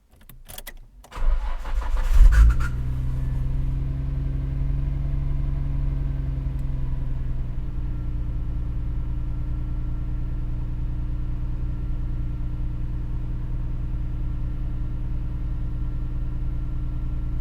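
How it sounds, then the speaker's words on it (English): A car engine cranks with a few sharp clicks, catches and roars to life, then settles into a steady, even idle hum that continues close by for the rest of the stretch. "There we go, car's on."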